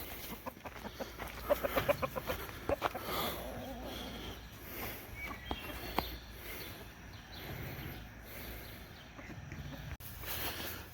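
Free-ranging backyard chickens clucking in short scattered bursts over an outdoor farmyard background, with a few sharper calls standing out early on and no talk.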